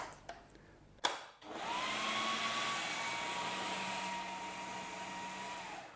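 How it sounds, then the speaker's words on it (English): Blender grinding almonds into creamy almond butter: after a few clicks and a short burst, the motor runs at a steady, loud whir with a sustained tone until near the end. "now it will keep blending and releasing the natural oils and get more and more creamy"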